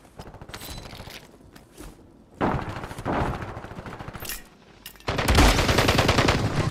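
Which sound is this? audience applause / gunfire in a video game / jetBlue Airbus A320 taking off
gunfire in a video game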